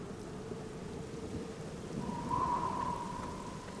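Steady rain with a low rumble of thunder in the Black Mirror adventure game, a constant wash that swells slightly midway, with a faint tonal hum joining near the end.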